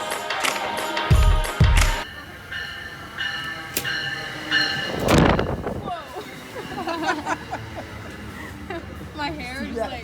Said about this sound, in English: This is what happened when the train went by.